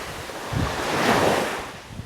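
Ocean waves breaking on a beach, a single surf surge rising and washing in over a breezy wind rumble, fairly close and moderately loud, with no talk.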